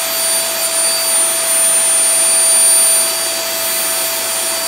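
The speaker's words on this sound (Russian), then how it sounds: "Пылесос." A household vacuum cleaner runs continuously at close range in an apartment, a loud steady whine with a high-pitched tonal hum and no voices.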